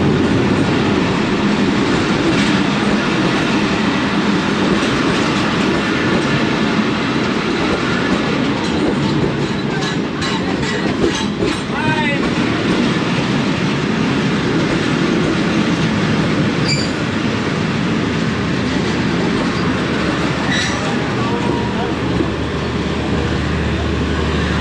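The Khyber Mail passenger train, led by a locomotive, rolls through the main line of a railway station, a loud, sustained roar of wheels and carriages with clickety-clack and occasional squeals throughout.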